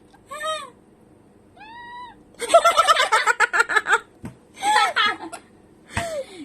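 Ring-necked parrot calling at close range, a few short rising squawk-like notes interleaved with bursts of chattering mimicry, while people speak encouragingly around it.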